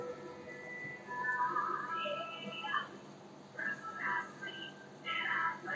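A cat meows several times in short, fairly high calls spread across a few seconds, moderately close over a quiet room background.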